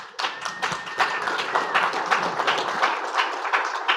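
Applause follows a speech at an energy summit panel, with scattered claps and taps that swell and dip unevenly at moderate loudness.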